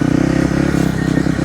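Kawasaki KLX 300R dirt bike ridden on trails across old pulpwood land, its single-cylinder engine chugging steadily at low revs with a throbbing, continuous rhythm, loud and close, no talking over it.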